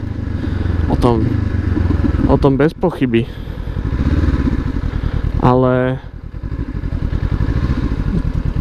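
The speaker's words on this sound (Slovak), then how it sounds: "Aj toto má štrkotanie, jasné, každá motorka to má." A motorcycle being ridden, its engine running steadily with a rattling, clattery mechanical note and a few rising revs, close and loud under someone talking.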